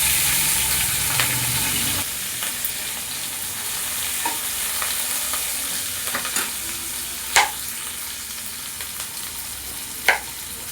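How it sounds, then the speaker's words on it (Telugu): Chopped green chillies fry in hot oil while a spoon stirs them for a stuffed brinjal masala, a steady soft sizzle broken by a few sharp scraping clinks of the utensil. "ఇప్పుడు అదే ఆయిల్లో కట్ చేసి పెట్టుకుని పచ్చిమిర్చి యాడ్ చేయాలి"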